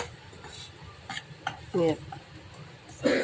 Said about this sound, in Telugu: ఒక్కసారి కలుపుకొని చూస్తున్నాము